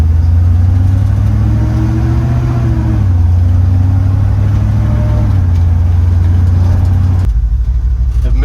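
A lifted pickup truck engine rumbles loudly from inside the cab while driving, a deep steady drone with a brief rise in revs before settling and dropping near the end.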